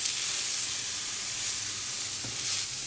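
Onions sizzle and fry on a hot pan in a loud, steady crackling hiss, close up, with no voices.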